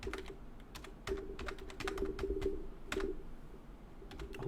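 Fingers type on a computer keyboard at close range, striking keys in quick, irregular bursts with short pauses between runs. A faint steady hum sits underneath, and no one talks.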